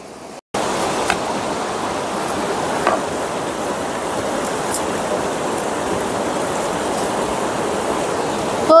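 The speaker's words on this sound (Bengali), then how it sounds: "তো চলো গাইস, প্রথমে আগে চিকেনটা ধুয়ে নিব।" Raw chicken rinsed under a running tap, a steady loud hiss of water splashing into a sink that starts abruptly after a brief pause and continues without break, close by, with no voices.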